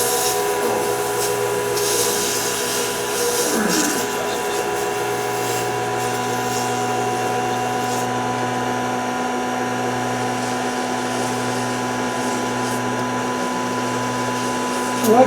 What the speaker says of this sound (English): A little quick sanding